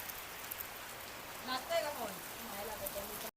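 A heavy July rain pours down at a farmhouse in Khairwadi, Panvel, as a dense, steady hiss of drops on surfaces, with a voice briefly speaking partway through before it cuts off.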